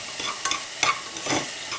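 A hot pan being deglazed after frying potatoes, a soft sizzle with a few scraping stirs across the surface over about two seconds, close and fairly quiet.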